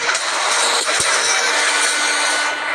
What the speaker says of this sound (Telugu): జనరేటర్ సౌండ్ కూడా వస్తుంది ట్రైన్ది